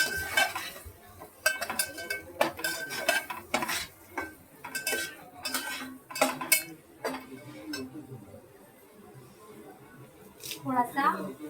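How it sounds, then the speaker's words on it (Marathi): A spoon scrapes and clinks against a pan as a coconut and coriander-onion paste is added and stirred, with irregular metallic taps spaced across the stretch and a brief sizzle near the end. "आता आपण टाकूया पेस्ट, खोबऱ्याची आणि कोथिंबीर कांद्याची पेस्ट."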